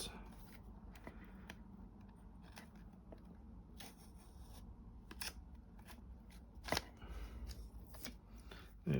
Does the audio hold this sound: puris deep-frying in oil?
no